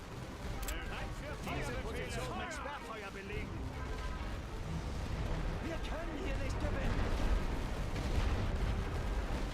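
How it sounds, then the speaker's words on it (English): An artillery barrage in the World War One strategy game The Great War: Western Front, with a dense rumbling of distant shell blasts and crashes rolling on continuously beneath someone talking. "I think we timed that artillery barrage pretty well."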